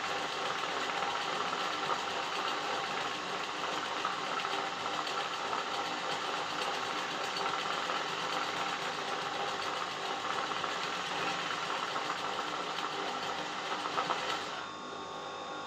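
An embroidery machine runs and stitches steadily in a continuous mechanical whir with fine rapid ticking throughout, close and fairly loud, stopping abruptly near the end; no one speaks.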